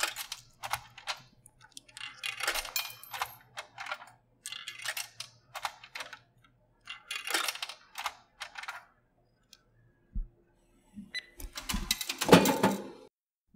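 Coins clink into a vending machine in a quiet room, a series of short metallic drops and rattles in small groups, ending with a heavier thunk and mechanical clatter as a snack is bought.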